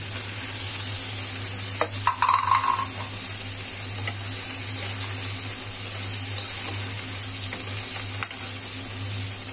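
Tangra fish frying in a pan, a steady hiss of oil running throughout with a few brief clinks and scrapes near the start, no voices.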